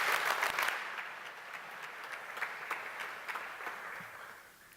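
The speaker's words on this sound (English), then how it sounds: "Everybody, please give them a round of applause." Audience at an American Legion Keystone Boys State gathering breaks into sustained applause, steady clapping that gradually tapers off toward the end.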